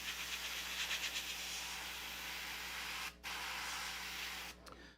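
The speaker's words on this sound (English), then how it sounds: "You can always tell if your needle, the nozzle is clogged if you have to pull your needle back out of seat to get spray" Airbrush spraying paint through a partly clogged nozzle, giving a steady close hiss of air and paint with a short break near the end and a few faint clicks.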